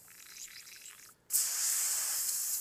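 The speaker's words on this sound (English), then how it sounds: "I just squirted it out with water." Airbrush being flushed with water to clean it: a quiet hiss, a brief pause, then a loud, steady high spray that holds to the end of the clip.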